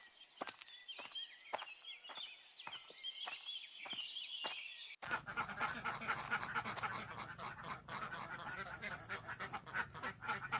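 Ducks quack while they are carried along, starting as a series of sharp, fairly faint calls over quiet background. It then changes to a denser, noisier stretch of overlapping quacks and rustling.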